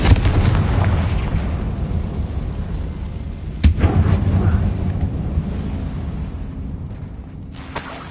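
A Confringo blasting spell detonates inside an abandoned mine in a Harry Potter video game, bursting in a deep rumbling boom that rolls and decays, followed by a second sharp blast midway and a fainter crack near the end.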